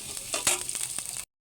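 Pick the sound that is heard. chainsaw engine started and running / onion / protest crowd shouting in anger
onion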